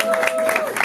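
Audience in a comedy club clapping in a steady, close wash of applause, with a voice briefly audible over the clapping.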